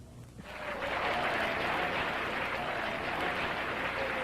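A game-show studio audience in 1989 claps for a contestant's famous uncle. The applause starts within half a second and holds steady and full for several seconds.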